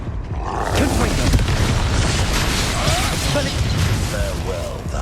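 A Confringo fire-blast spell in the Hogwarts Legacy video game, heard as a dense, sustained rumble of booming bursts and crackling magic effects over continuous game music and combat noise, with voices speaking through it.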